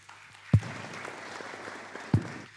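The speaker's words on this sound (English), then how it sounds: "Round of applause, please." Applause at a formal event in Ethiopia, a moderate crowd clapping steadily with two sharp thumps standing out near the start and end.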